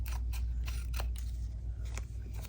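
Scissors trim handmade slide-style paper ephemera, a few crisp separate snips spaced about half a second apart over a steady low hum, close up and without talk.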